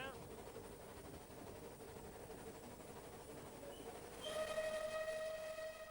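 The steam locomotive Clan Line rumbles steadily along, then the sound swells and takes on a boomy, enclosed ring with tonal whine as it enters Shakespeare Tunnel near Dover.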